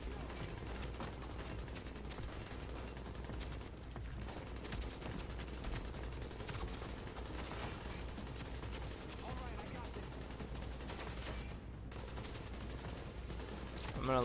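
Enemy gunfire in The Division video game rattles steadily throughout, dense repeated shots forming a continuous barrage over a low game rumble, with a voice talking faintly underneath.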